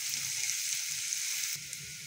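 Chopped onions with garlic-ginger paste sizzling in a pan, a steady close hiss of frying with light stirring scrapes and no talk.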